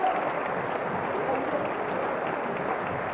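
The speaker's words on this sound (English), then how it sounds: "And the crowd going crazy." Crowd at a FIP Silver padel final cheering and applauding, a dense, steady wash of clapping and voices that fills the whole stretch at an even loudness.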